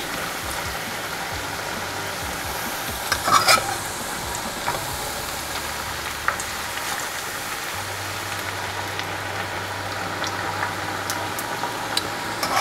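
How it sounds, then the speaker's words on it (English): Steady crackling hiss of plantain chips deep frying in oil, continuous and fairly quiet, with a few brief clinks near the start. "that's some deep frying going on right now"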